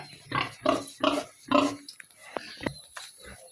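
A sow in heat grunting repeatedly at close range, four strong rhythmic grunts followed by softer, shorter snorts and grunts.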